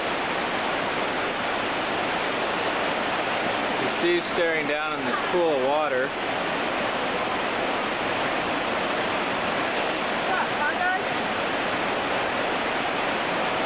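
Water rushes through the Flume gorge in New Hampshire, a steady broadband roar filling the whole stretch while someone talks briefly over it.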